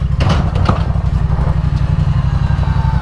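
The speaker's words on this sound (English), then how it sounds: "I'm gonna start this list off with the exhaust note of this motorcycle. I love the sound of this bike." A 2016 Yamaha FZ-07 exhaust rumbles loud and close at idle, a steady low throb with a slight clatter and no voices.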